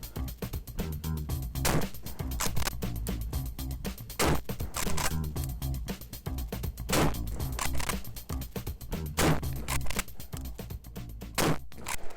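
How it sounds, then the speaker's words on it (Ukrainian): A pump-action shotgun fires ZALA "Slava Ukraini" cartridges at a range, not from a stand. The sharp, loud reports come at irregular intervals with a steady background between them. "Зробимо постріли не зі стенду"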